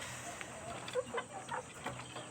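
Mardi village chickens, about three months old, clucking softly on a farm: a few quiet, scattered clucks and short calls against low background noise.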